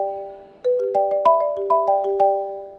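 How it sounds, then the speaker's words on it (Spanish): Apple Marimba ringtone played on a marimba: a short, bright melodic run of struck wooden bar notes, clear and close, rising and falling over a few seconds. "El sonido es de una marimba, característico de los dispositivos de la marca Apple"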